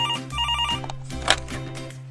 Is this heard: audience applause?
no